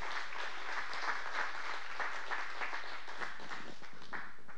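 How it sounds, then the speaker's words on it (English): Sustained applause from a church congregation during a morning service, a dense, steady wash of many hands clapping at moderate distance with no talking over it. "So would you give it up, give a round of applause for Christian and Dayton."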